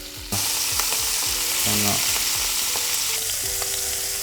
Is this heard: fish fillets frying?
yes